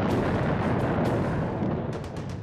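A British artillery bombardment of 1916 rumbles on as dense, continuous booming and concussive blasts, a steady wall of heavy gunfire with no pauses throughout.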